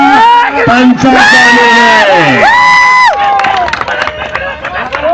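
Loud crowd cheering and whooping with clapping at a wrestling bout in Varvand, Daund, Pune, with shouting voices rising and falling over a few seconds.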